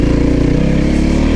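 A Loncin LX300 enduro motorcycle engine drones steadily and loudly at close range while being ridden off-road, holding an even, unbroken tone.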